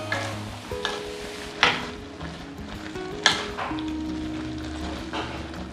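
Ground coconut paste is stirred into a Kerala-style koottu curry in a pot, making soft scraping and sloshing sounds, with a few sharper clanks of the spoon against the vessel.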